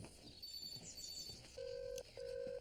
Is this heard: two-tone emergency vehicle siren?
no